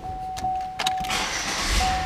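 A used Chevrolet Impala sedan's engine catching and starting close by, a short burst of cranking that settles into a steady idle, with a constant whine running through it.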